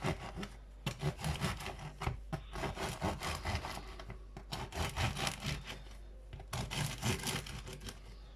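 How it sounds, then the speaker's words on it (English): A knife saws back and forth through a baked loaf of bread to cut slits for garlic butter, giving close, repeated scratchy rasping strokes with a crusty crackle. "all we're going to do is make some cuts into the bread"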